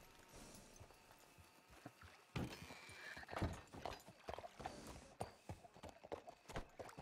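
In a ranch roleplay video game, a horse's hooves clip-clop in irregular, close beats, joined by a neigh and shuffling movement.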